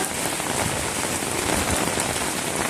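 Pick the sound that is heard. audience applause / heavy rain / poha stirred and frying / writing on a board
heavy rain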